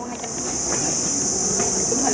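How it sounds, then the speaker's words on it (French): Vietnamese cicadas shrill outside a royal mausoleum in Hue, Vietnam, a loud, unbroken high-pitched buzz that holds steady throughout, with faint background murmur beneath. "Il y a des cigales"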